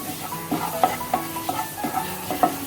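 Spices sizzle in hot oil in a pan for veg samosa filling while a spoon stirs them in steady scraping strokes, a close, continuous frying hiss with rhythmic stirring.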